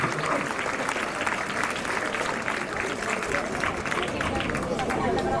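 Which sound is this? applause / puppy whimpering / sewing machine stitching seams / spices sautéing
applause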